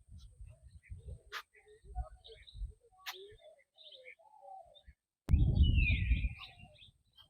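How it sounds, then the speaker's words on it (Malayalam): Birds at a farm house in Muthanga, Wayanad, give scattered faint chirps and calls over soft low background rumble, before a person speaks loudly close by. "എന്തോരം പക്ഷികളാ"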